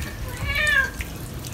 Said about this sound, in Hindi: बस पानी बहा दो अपने पेट सिम्बे पे